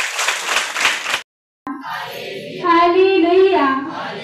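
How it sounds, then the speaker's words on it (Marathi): A church congregation at a prayer gathering claps loudly for about a second in a dense burst, then a brief silence gives way to a voice with tonal sounds. "आपण जोराने टाळ्या वाजवून प्रभूला धन्यवाद देऊया"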